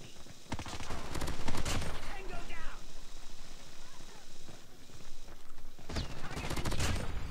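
Type 25 rifle fire in COD Mobile rattles in rapid automatic bursts, a tight cluster early and another near the end, with quieter in-game effects between and a player talking over the action.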